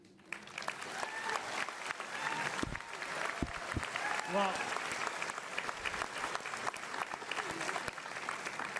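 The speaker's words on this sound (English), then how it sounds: "let's give a round of applause to all of our leadership candidates" An audience at a Conservative leadership debate applauds the party's leadership candidates with sustained, dense clapping that swells and holds steady. A voice briefly speaks at the start.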